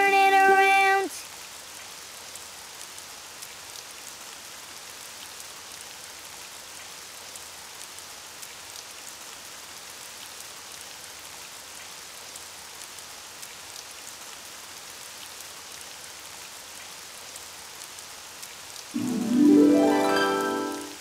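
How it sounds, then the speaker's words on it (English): Steady rain falls in a soft, continuous hiss, with brief musical tones at the start and end. "Oh, it's raining outside."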